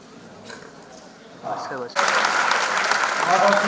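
Audience applause breaks out at a live stage show, starting with a short burst of clapping that swells into loud, sustained clapping from a large crowd, with a voice briefly audible just before it.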